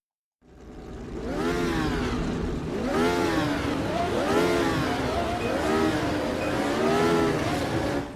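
A Formula Retro race car in the Automobilista racing game revs up from silence, its engine rising and falling in repeated sweeping pulls, loud and close with no talk.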